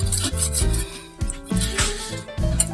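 A tool scores a block of clear ice partway through, making a close, repeated rasping scrape in short uneven strokes with brief pauses between them.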